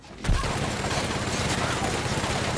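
Rapid, sustained gunfire in the video game The Outer Worlds opens with a sharp burst and continues as a loud, dense rattle of shots and impacts for a couple of seconds.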